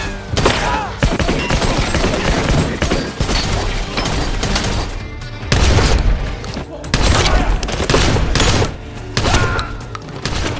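Gunfire shootout from a John Wick film: dense, loud bursts of rapid gunshots, booms and shattering impacts running continuously, mixed with film score and a narrator's voice talking over it.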